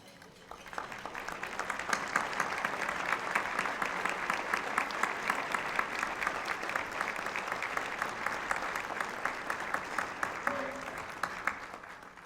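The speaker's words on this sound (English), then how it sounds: "let's give them a round of applause" Sustained applause from a large audience honouring city staff at a State of the City event, building quickly into dense steady clapping and holding for about ten seconds before thinning out, with no talk over it.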